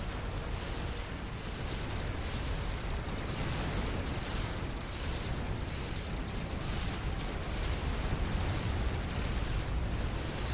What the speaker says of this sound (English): the megalith is firing into this Yathoda